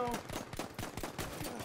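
Gunfire in the Battlefield 1 video game: a rapid string of sharp shots at an even rhythm, close and fairly loud, heard alone for under two seconds.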